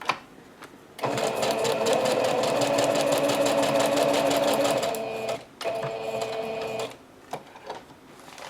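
A sewing machine runs steadily for about four seconds while stitching through a paper bag, a loud close whir, then stops and gives a short second burst amid rustling.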